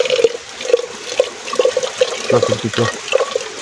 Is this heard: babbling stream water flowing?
yes